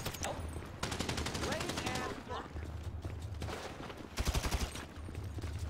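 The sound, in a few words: sniper rifle shots in the video game GTA 5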